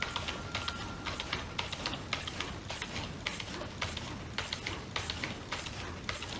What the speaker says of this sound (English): you can hear that matched up with his keyboard